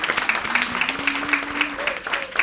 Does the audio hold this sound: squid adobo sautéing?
no